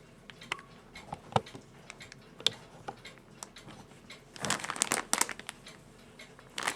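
A plastic bag sealed around a porcelain-faced German barometer crinkles softly in scattered close ticks and rustles, building into a denser burst of crumpling as it is pressed.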